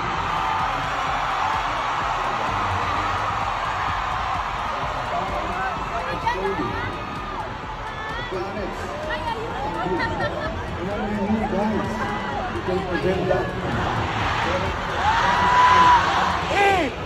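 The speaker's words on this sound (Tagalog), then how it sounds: "pakinggan nyo sigaw ng taong bayan" Large concert crowd shouting and cheering together, a dense continuous roar of many voices filling the space, swelling louder toward the end, with a nearby voice talking over it.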